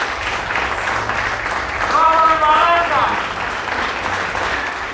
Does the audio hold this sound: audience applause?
yes